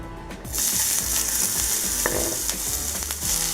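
Two large onions frying in hot oil on a tawa, a loud, dense, continuous sizzle close by with faint scraping of the spatula, no voices.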